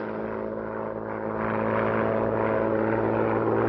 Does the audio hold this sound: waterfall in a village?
no